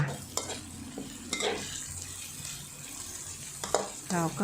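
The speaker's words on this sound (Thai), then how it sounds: "ผัดกุ้งให้สุกนะคะ" Shrimp being stir-fried in a pan for a shrimp spaghetti dish, giving a steady sizzle with a few scraping stirs of a utensil, close and moderately loud, with a brief spoken word.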